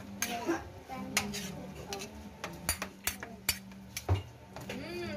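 Biko, a sticky rice cake, is stirred in a pot with a utensil that scrapes and taps the metal in close, uneven strokes, while voices murmur faintly in the background.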